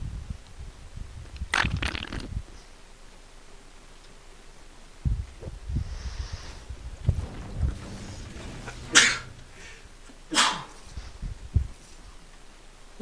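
Several sharp sneezes burst out at intervals, loud and close, with quiet gaps and a faint background hum between them.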